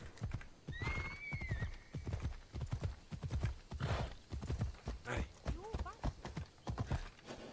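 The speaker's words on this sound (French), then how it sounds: "Mon petit cheval." Horse in the video game Assassin's Creed Odyssey, with steady clip-clop hoofbeats of galloping throughout and a clear whinny near the start and another later, heard under someone talking.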